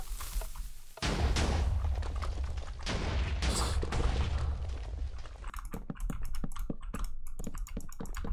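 In Minecraft, repeated heavy blasts of TNT cannon fire boom in quick succession, followed by a rapid run of sharp, crackling detonations.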